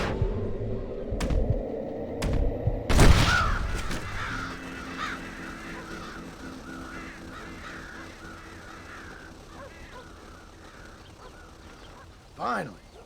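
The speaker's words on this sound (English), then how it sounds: "Damn crows!" Crows caw in the Red Dead Redemption video game, with a few loud harsh calls early on over a busy outdoor ambience. The calls fade into quieter background noise, and one more short cry comes near the end.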